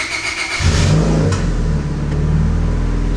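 A Honda Civic with a turbocharged D16 engine starts up with a short cranking rush, then catches and revs, settling into a loud, close, steady mid-pitched drone.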